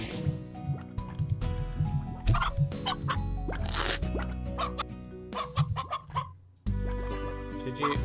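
A chicken in the video game Slime Rancher clucking in short, scattered bursts over busy game music and effects, moderately loud.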